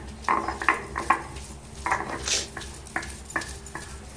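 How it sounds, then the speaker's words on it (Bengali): Fried drumstick leaves are crushed on a traditional flat grinding stone, producing irregular scraping and knocking strokes with short pauses between them, close and fairly clear. "সজি পাতা ভাজাটা এখন বেটে নেবো"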